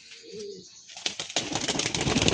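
Madrasi highflyer pigeons coo softly at first, then a burst of wing flapping and rustling grows louder and busier, close by.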